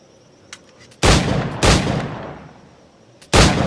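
Three loud firearm gunshots in Assassin's Creed Black Flag, each a sharp close blast with a long echoing decay, spaced unevenly over a quiet background.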